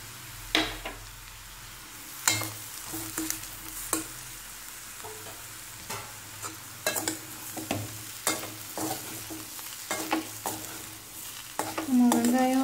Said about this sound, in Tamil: நல்லா மிக்ஸ் பண்ணிக்கிறோம்.